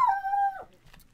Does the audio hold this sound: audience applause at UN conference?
no